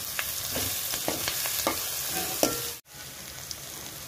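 Turmeric and ginger garlic paste frying in a pan for a potato curry: loud, steady sizzling with repeated scraping stirs, then a brief dip before the frying hiss continues.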